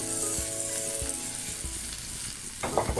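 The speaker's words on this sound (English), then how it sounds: "and then I stir fry" Mushrooms and diced garlic stir frying in a pan, with a steady close sizzle, a few soft thumps from stirring, and a louder clatter toward the end.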